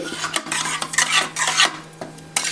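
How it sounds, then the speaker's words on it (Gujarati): Grated corn mixture with garam masala and sugar being stirred in a pan, a close, rhythmic scraping of a spoon against the pan. Rasping strokes repeat steadily for a few seconds, over a faint low hum. "એક ચોથાઈ ચમચી ગરમ મસાલો અને એક ચમચી ખાંડ ઉમેરી બધાને મિક્સ કરી લેવાનું છે"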